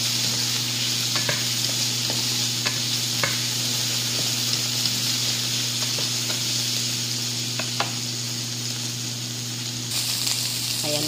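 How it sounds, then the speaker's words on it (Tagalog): Chopped onion and garlic sauté in a pan for pork menudo, a steady close sizzle broken by occasional clicks of a stirring utensil over a constant background hum, with no talking. "Then linagay ko na po yung sibuyas bawang natin. Magigisin na po tayo."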